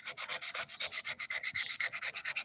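Rhythmic back-and-forth hand sanding of new gelcoat on a Key West 21 center console boat with 80 grit sandpaper, rough scratchy strokes about eight per second, close and steady with no voices.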